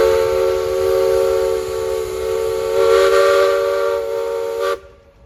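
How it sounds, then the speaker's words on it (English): A loud, sustained steam engine whistle at a threshing show tractor parade blows steadily for several seconds with a rich harmonic tone, then cuts off abruptly, leaving a faint hiss. "Mr. Somerville, you got a whistle."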